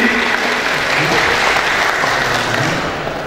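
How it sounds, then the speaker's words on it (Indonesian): A crowd claps at a public debate between mayoral and deputy mayoral candidates in Dumai, Indonesia, in 2015, producing a dense, even wash of applause that stays loud throughout and eases off only slightly at the end, with no talking. "Tepuk tangan kepada para hadirin."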